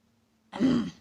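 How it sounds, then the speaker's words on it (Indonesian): A single short throat clearing, close and fairly loud, following near silence; a brief rough burst lasting under half a second. "Berdehem."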